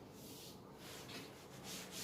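Steady scrubbing of a duster or eraser rubbing out written work on a board during a physics lesson, a continuous soft rasping texture with slight surges, close and moderately quiet with no talking.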